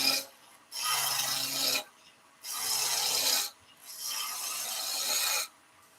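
Wood on a lathe being roughed down to a cylinder, giving three long rasping scraping passes, each lasting over a second, with short pauses between them and no talking.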